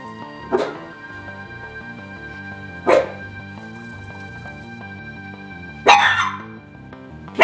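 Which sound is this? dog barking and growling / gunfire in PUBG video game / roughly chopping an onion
dog barking and growling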